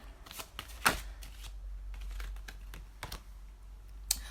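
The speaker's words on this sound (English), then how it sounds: "And I'm shuffling." A deck of tarot cards is shuffled by hand in short bursts of papery riffles and taps, close and crisp, with pauses between the bursts and no talking.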